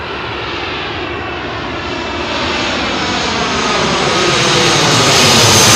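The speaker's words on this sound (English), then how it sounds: "KLM 737 from Schiphol." A KLM Boeing 737 jet arriving from Schiphol passes overhead on approach to runway 27L at London Heathrow at sunset, its engine roar loud and close, steadily swelling in volume with no voices.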